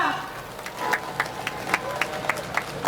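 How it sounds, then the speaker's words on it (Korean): Crowd at an outdoor Korean election street rally clapping and cheering for a candidate, rhythmic unison claps beating at a steady pace under lingering voices. "문대림 전 의장님께 다시 한번 우리의 마음을 담은 큰 박수 부탁드리겠습니다"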